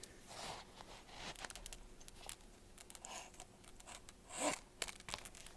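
A small drawstring pouch holding a string of magnets is handled, giving soft close crinkles, rustles and light fabric scrapes in uneven bursts, with one louder rustle near the end, quiet throughout.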